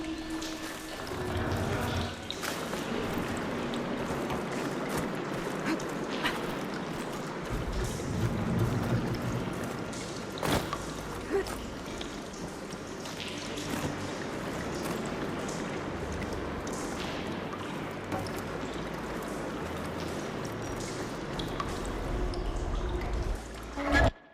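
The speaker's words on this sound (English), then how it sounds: "Sounds like the water's switched. Gotta open the valve upstairs. Get that water circulating." Water flowing and circulating through pipes in Horizon Forbidden West, a steady rushing wash with trickling detail that holds evenly throughout, moderately loud with a few sharp game effects over it.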